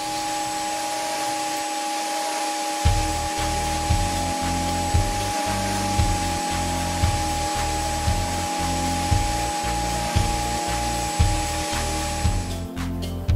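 A table router rounding the edges of a wooden part by hand, a loud steady high whine with rhythmic dips as the wood is fed past the cutter, continuous and close without speech.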